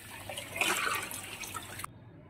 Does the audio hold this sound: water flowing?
yes